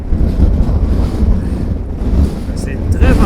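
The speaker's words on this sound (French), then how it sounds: "C'est très venteux." Strong wind buffets the microphone while riding a Versys 650 motorcycle fitted with a 19-inch front wheel, Shinko 705 tyres and a new windscreen on a winter ride. A loud, steady roaring rush continues throughout, with brief faint tones near the end.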